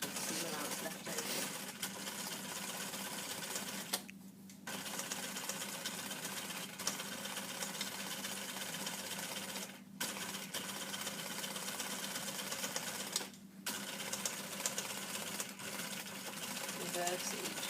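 A sewing machine runs in long continuous stitching passes around a garment neckline, pausing briefly a few times before starting up again, steady and close.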